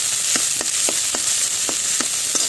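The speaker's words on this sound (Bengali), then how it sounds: "এইবার ঘেটকুল পাতাটা ভালো করে একদম শুকনো টুকনো করে ভেজে নেব" Ghetkol leaves frying with prawns in a pan, a continuous bright hiss with about seven evenly spaced scraping stirs over it, close and fairly loud.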